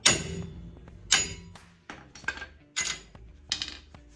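Sharp metallic claw hammer blows on a steel wheel stud, about six strikes spaced unevenly, each ringing briefly before fading, close and loud with no voices.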